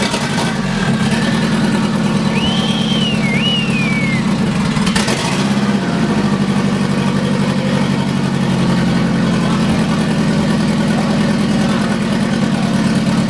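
A Nissan 240SX fitted with a budget turbo kit runs at a slightly raised idle, giving a steady, close, continuous engine drone with no break in level and no voices.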